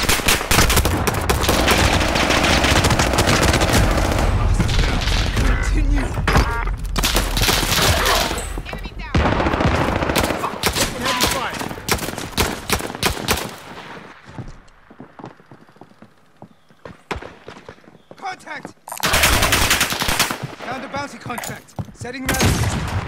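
Dense gunfire in Call of Duty: Modern Warfare, loud rapid automatic bursts and fusillades in heavy stretches, easing into sparser shots and movement sounds before another intense volley, with occasional game voices.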